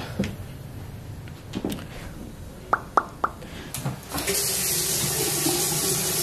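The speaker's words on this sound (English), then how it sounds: "I'm about to go clean my sponges because they are dirty." Tap water running into a sink for washing dirty sponges, starting with a few small plops and knocks, then a steady close stream that takes over the second half.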